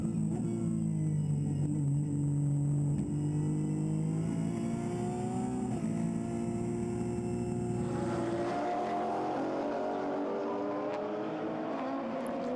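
Onboard a race car lapping Zandvoort circuit during a 2014 BRCC round, the engine holds a loud, continuous drone whose pitch climbs and drops through gear changes.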